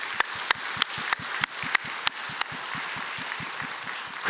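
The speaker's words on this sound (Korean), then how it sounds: "한번 격려의 박수 해주시면 됩니다" A Korean church congregation claps in encouragement during a Sunday service, sharp, evenly spaced claps in a steady unison rhythm, loud and close, with a quieter run of beats in the latter half.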